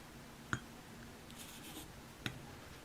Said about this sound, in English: Stamping with a pencil.